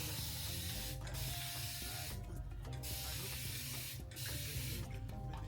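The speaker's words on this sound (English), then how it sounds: "I am going to spray a little bit more water on it" Quick repeated squirts from a spray bottle misting water onto hair hiss close by, coming in rapid bursts with brief pauses over a low background hum.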